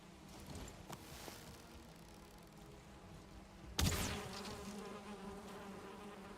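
A bee buzzing near a woodland meadow where a troll lurks in a game world, a steady faint drone with a louder close swell partway through.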